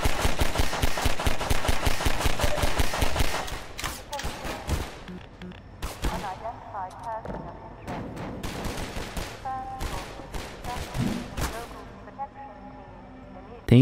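Gunfire from the video game Half-Life 2 rattles in a rapid automatic burst, then breaks into scattered shots and impacts over the following seconds, with talk mixed in underneath.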